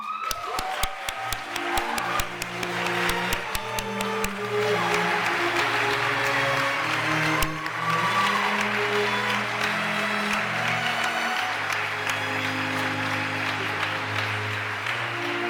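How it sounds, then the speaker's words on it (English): An awards-ceremony audience applauds an arts prize winner with sustained, dense clapping, while sustained musical tones play underneath and swell through the middle. "Please join me in a round of applause for 2021 Cleveland Arts Prize for Mid-Career Artist, Corrie Slawson"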